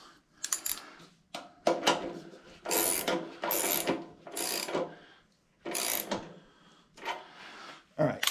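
A wrench ratchets in quick bursts of clicking, tightening a bolt on the rear wheel of a 1976 Harley-Davidson FLH motorcycle. The sound is close, comes in several short runs with pauses between them, and no one talks over it.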